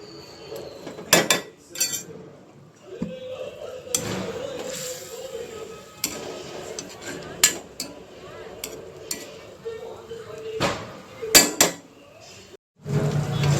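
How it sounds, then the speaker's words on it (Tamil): Metal spoon scraping and clinking in a pan while chicken liver fry is stirred, irregular knocks and scrapes at close range with quiet gaps between strokes. "லேசாக அந்த மசாலா எல்லாம் உள்ளே போகிற மாதிரி நல்லா கிண்டி விட்டுக்கணும்."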